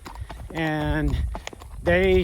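Hooves of a ridden horse clip-clop in a steady walking rhythm on a ranch in the evening, close and clear, while someone talks over them.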